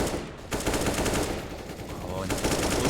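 Sustained automatic gun spray in a competitive shooter video game, a dense, continuous burst of rapid shots running nearly the whole time, loud and close, with a brief break early on.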